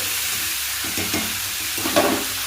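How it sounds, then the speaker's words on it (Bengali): Cumin seeds dropped into hot oil for a Bengali tempering, frying with a steady close sizzle and a few soft stirring clicks and bursts, no talking. "তো এখন দিয়ে দিচ্ছি জিরে ফোড়ন, তারপরে দিয়ে দেবো আলু।"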